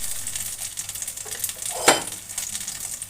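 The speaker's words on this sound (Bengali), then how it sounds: "এটা হালকা করে একটু ভেজে নেব" Pumpkin flower fritters in a rice-flour and wheat-flour batter fry lightly in hot oil, giving a steady, close hiss with one sharp utensil clink partway through.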